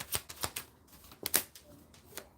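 A deck of tarot cards shuffled by hand, with quick papery riffles and soft slaps in irregular bursts, close and fairly quiet.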